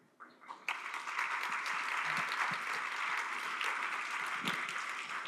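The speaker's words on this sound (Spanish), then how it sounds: "Quiero volver a dar un aplauso a todas las y los directores y sus equipos" A room of people bursts into sustained applause for theatre directors and their teams at a training event, starting with a few claps and swelling into steady, dense clapping that holds at moderate volume.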